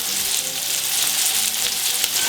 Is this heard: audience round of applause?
no